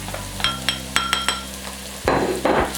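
Spoon stirring crayfish (njanga) into a sizzling garden egg stew in a metal pot, several close clinks and scrapes over a steady fry, with no voices.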